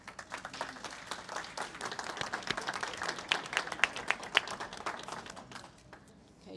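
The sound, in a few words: audience applause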